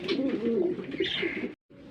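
Pigeons for sale at a pigeon keeper's farm give close, soft, throaty coos in a short run of repeated calls, with a brief pause near the end.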